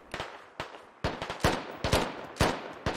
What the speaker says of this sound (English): And there is an HMG firing this direction as well.